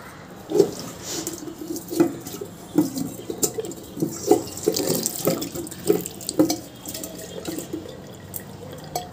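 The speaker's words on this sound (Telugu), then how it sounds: "కొంచెం వాటర్ పోసేసి కొంచెం వాటర్ పోసుకోవాలి" Water running from a kitchen tap into a sink while a glass is rinsed, a steady close splashing flow broken by several louder sloshes and bumps, with no talking.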